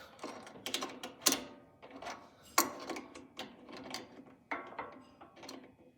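A wrench works a nut loose on a dough sheeter conveyor, giving a series of close, sharp metallic clicks and ratcheting clacks in irregular bursts, with a few louder snaps.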